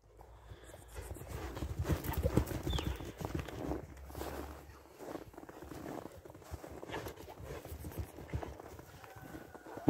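A racehorse with a white blaze gallops around, its hooves beating a quick, uneven clip-clop rhythm at moderate distance, loudest early and then continuing more softly over faint outdoor background.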